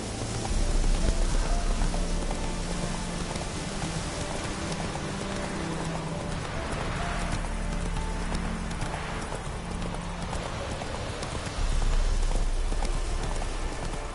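Horse hooves in a PlayStation 4 video game clop steadily and loudly over a rain-like wash of game ambience, continuous from start to end with no talking.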